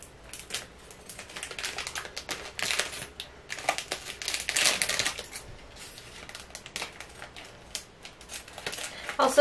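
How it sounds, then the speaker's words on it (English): Oversized scissors cut and handle paper for a Poppin' Cookin' craft kit, making a steady run of soft snips, crinkles and rustles close by, under quiet talk. "My scissors are too big for this."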